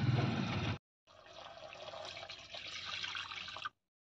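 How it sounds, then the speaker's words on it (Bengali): Milk poured into a pan of spiced pointed gourd curry, a steady liquid pour that stops briefly and then runs on as a longer, even stream, close by with no talk. "এর মধ্যে এবার দুধটা দিয়ে দেবো।"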